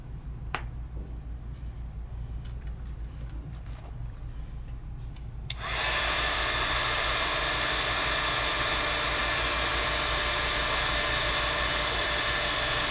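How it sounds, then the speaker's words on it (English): Heat tool switching on partway through, heat-setting an oil pastel artwork done with Royal Talens Van Gogh oil pastels; a steady loud blowing roar follows quieter handling noises and taps. "I just move my heat tool all the way around"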